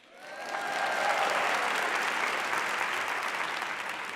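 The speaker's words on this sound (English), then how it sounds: "Let's have another round of applause for the Albert Einstein High School dancers." A school celebration audience applauds high school dancers after their performance, the clapping swelling quickly into a full, dense, sustained round that holds steady at a loud level.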